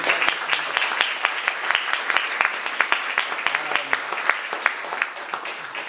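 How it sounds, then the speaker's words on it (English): An audience at a photography presentation and exhibit claps steadily for several seconds, a dense patter of many hands with sharp individual claps standing out, fairly close and continuous. "let's give a round of applause"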